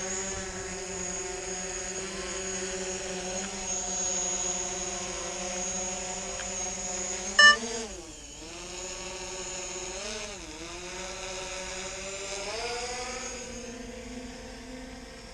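A drone flying in falling snow, its high steady propeller whine holding throughout and shifting pitch in a few swoops as it manoeuvres, fairly close and alone.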